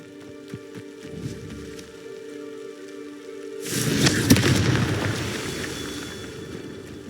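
The Confringo spell in Hogwarts Legacy goes off as a sudden, loud fiery burst partway through, with a crackling, rumbling roar that lingers and slowly fades over a quieter ambient hum.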